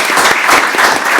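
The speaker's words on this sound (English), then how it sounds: "Maybe if we give them a round of applause" Short burst of loud conference audience applause for the organizers, many hands clapping close and dense in a brief, uneven patter.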